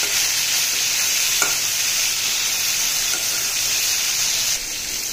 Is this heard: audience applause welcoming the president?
no